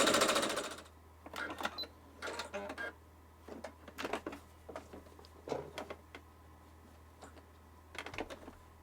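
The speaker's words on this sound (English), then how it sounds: "So we're just starting off with the regular straight stitch." A sewing machine running a regular straight stitch in short bursts of mechanical chatter separated by pauses, quiet and close.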